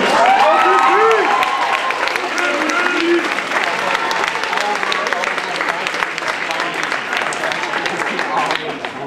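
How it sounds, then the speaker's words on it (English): Audience at a drag show applauds and cheers steadily for about nine seconds, a dense, loud wash of clapping with scattered whoops and voices mixed through it. "I just want to give a round of applause for all of our interactions tonight"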